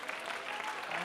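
A worship service congregation gives a short burst of applause, with dense, steady clapping from many hands that stays fairly quiet and distant for about a second.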